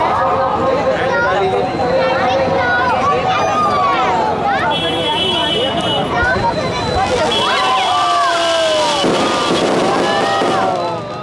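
Fireworks at a Ramleela parade in Kanpur, whistling rockets and crackling bursts rising over a loud, dense crowd babble and chatter outdoors, with the noise continuing throughout.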